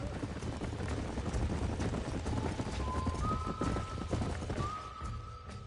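Horses clip-clop at a trot in the Red Dead Redemption western video game, steady hoofbeats under a dense outdoor mix, with a brief whinny or whistle-like tone rising near the end; no speech.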